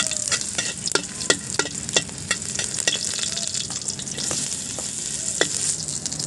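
Ginger sautéing in a small amount of oil for a corn soup, a steady close sizzle with scattered crackles and spatters, alone without talk.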